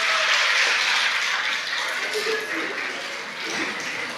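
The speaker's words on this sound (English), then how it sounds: "give these boys and girls a round of applause" A crowd at a fifth-grade school awards ceremony applauds steadily, a dense wash of clapping that holds at an even level and eases slightly toward the end.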